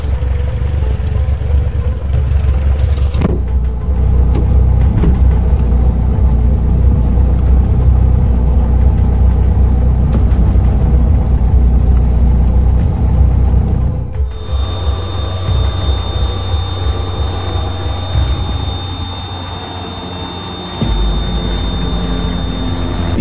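A small airplane's engine runs steadily on the ground before takeoff at Marco Island, a loud continuous drone that shifts in tone partway through, then settles into a lower steady hum with some rattling.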